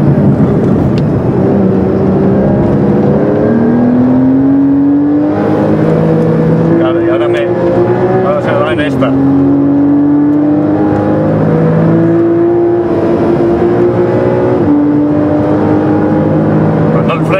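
A Porsche Cayman S PDK accelerates hard on the Portimão circuit, its engine loud and close as the pitch climbs steadily and drops back with each gear change, several times over, with someone talking throughout.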